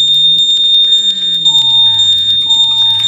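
Hospital fire alarm in a Roblox game sounds loud and continuous, a piercing steady electronic tone with a warbling lower sweep beneath and an added mid tone joining partway, no speech.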